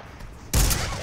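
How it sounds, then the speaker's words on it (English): A burst of gunfire strikes the player in the Spider-Man 3 video game, a sudden loud crackling volley that follows a quieter lead-in. "I'm already being shot."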